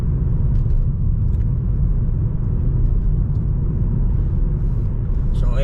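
Car driving along a countryside road, a steady, loud low rumble of engine and road noise filling the cabin throughout, with a few faint clicks and no talking.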